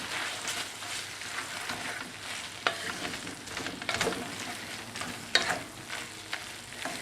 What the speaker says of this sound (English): I'm going to put a whole egg here. Scramble it with my vegetables.